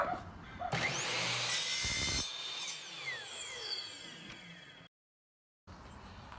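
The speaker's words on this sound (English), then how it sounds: "So now that we've cut the dowels" A handsaw or power saw cuts through wooden dowels during an RV waste hose storage project, a loud continuous rasping cut lasting a couple of seconds, then quieter scraping, a brief silence and a faint resumption.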